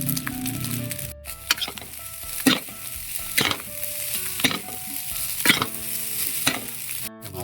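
Onion and tomato stir-fry for Filipino garlic fried rice, a loud close sizzle punctuated by repeated scraping strokes of a spatula roughly every second, with no voices.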